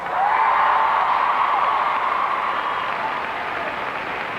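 An arena crowd at the 1997 Billboard Music Awards applauds and cheers a performing group, a loud, sustained roar of clapping and voices that slowly eases off.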